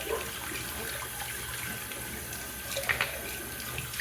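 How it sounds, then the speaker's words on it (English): A shaving soap tub rinsed under a running tap: steady close water flow splashing against the tub for several seconds, with a few brighter splashes near the end. "Let me rinse this tub off."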